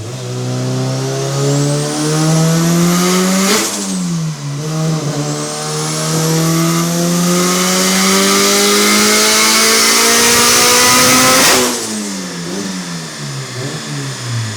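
A turbocharged Honda Civic engine screams on a dyno during a tuning pull, rising steadily through the revs, shifting, then climbing again to a loud sustained peak before dropping off abruptly.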